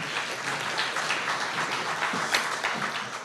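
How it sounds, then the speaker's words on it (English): Conference audience at a European sustainability congress applauding, a steady, dense wash of many hands clapping for a few seconds with no talk over it. "So a big applause for Tim Forslund."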